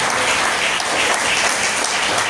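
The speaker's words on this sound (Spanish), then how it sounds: "Denle un aplauso al Señor." Steady, dense clapping from a church congregation giving applause to the Lord during a sermon on the resurrection of Jesus Christ, loud and unbroken with no speech.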